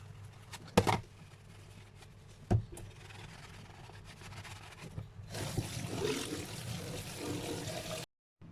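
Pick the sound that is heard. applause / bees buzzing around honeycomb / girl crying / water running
water running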